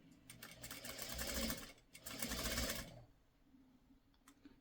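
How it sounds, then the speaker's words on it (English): A sewing machine stitches pre-cut quilt fabric pieces in two steady, close bursts, pausing briefly between them, then winds down to quiet handling noise. "And I'm sewing with the piece on the bottom."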